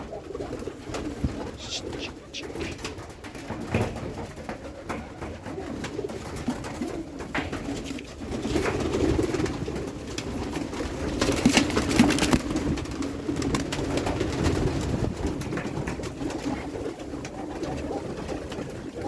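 Several pigeons in a breeding loft with eggs and chicks coo repeatedly at close to moderate distance, their low murmuring calls overlapping over a constant rustling background.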